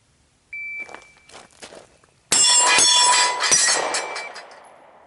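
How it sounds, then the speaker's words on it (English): Shot timer beep followed by rapid hits on a steel Action Target PT Tactical Torso: a clean electronic tone, several light footstep-like ticks, then a loud burst of sharp metallic pings and ringing clangs that decay over a couple of seconds. "This is the beauty of shot timers."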